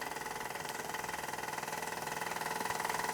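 A Gem model steam engine on a small Meccano base, fitted with an oiler and a safety valve, runs quietly with a fast, even chuffing beat that holds steady throughout and is heard alone.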